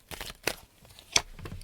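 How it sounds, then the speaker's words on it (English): Tarot cards being shuffled by hand, a few quiet papery riffles and crisp snaps in short bursts against near silence. "I'm just going to shuffle, and then I'm going to pull out 4 cards here."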